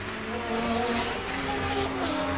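Touring cars, including a Benson and Hedges Ford Sierra, race at Mallala circuit in 1989, their engines droning in a steady sustained roar with shifting pitch and no voices.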